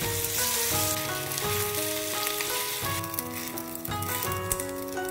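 Batter-coated wheat gluten frying in hot oil, a dense continuous sizzle and crackle heard up close with no voices.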